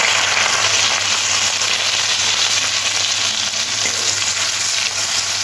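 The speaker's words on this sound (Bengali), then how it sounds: "ফোড়নে দেব কালো জিরে, কাঁচা লঙ্কা," Nigella seeds, green chili and onion fry in hot oil with a loud, steady sizzle that holds evenly throughout, close up and with no pauses.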